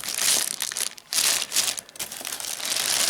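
A plastic bag crinkles and rustles in close bursts, stopping briefly and starting again, while an Umarex M1A1 air rifle is unboxed.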